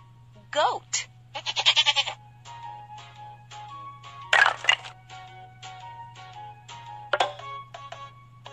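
Cartoon goat bleats from a kids' animal puzzle game: one shaky, quavering cry near the start, followed by bright jingles, ringing tones and a sharp crackle, with a voice talking over parts of it.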